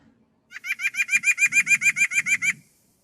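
A common Manitoba winter bird gives a laughing, monkey-like call: a rapid string of about fifteen evenly spaced, bright chattering notes over two seconds, clear and fairly close, with faint low rustling beneath and no talk.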